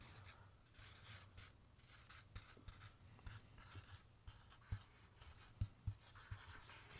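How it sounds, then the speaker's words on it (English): Pen scratching across paper in short, quiet strokes with a few small taps, steady and close over a faint background hum. "I'm just gonna write it down"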